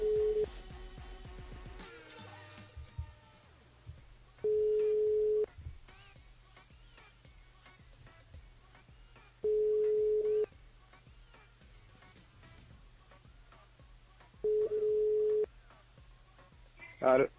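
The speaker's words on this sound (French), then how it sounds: "c'est parti, on appelle Teddy du côté du jeu" Phone line tones sound during a call to a radio show listener: a steady tone repeats in four evenly spaced one-second pulses over a low line hum, with brief clicks and faint background noise between them.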